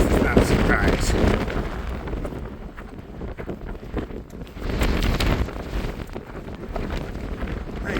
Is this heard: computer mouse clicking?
no